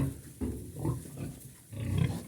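Twelve-day-old piglets grunt and snuffle in short bursts close by at a new feeding trough of prestarter pellets, with soft rustling and feeding noises between the grunts.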